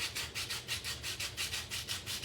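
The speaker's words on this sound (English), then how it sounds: "just going to take some sand, a sandpaper block now" A sandpaper block rubs back and forth over a coin ring, a quiet, close, rhythmic scratching of about eleven even strokes with no talking.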